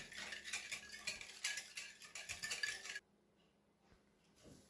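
A spoon or whisk mixes warm milk and dissolved fresh yeast into a brioche batter in a bowl, giving a steady run of clinking, scraping strokes for about three seconds before things go quiet.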